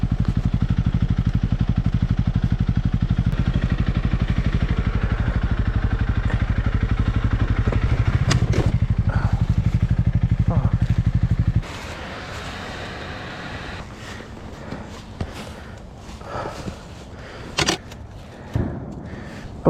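A Honda CRF300L motorcycle idles loudly and steadily in the woods, then pulls away. The engine drops off, leaving quieter clatter and scattered knocks.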